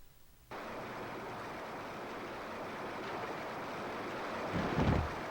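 Waterfall in the N64 video game Indiana Jones and the Infernal Machine, a steady broad roaring rush of falling water that starts abruptly and holds constant, swelling slightly near the end.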